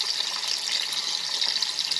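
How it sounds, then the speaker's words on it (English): Potatoes frying in hot oil over a medium flame, a steady dense hiss with fine crackling running continuously at close range, no voices. "Because there's water in the potatoes, the oil will crackle."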